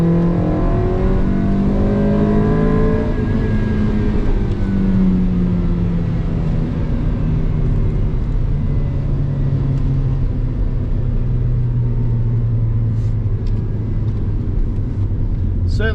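A Honda Civic EK hatchback with a naturally aspirated D16 engine drives and accelerates, with a loud, continuous engine drone that rises in pitch through the gears and is heard from inside, steady and close.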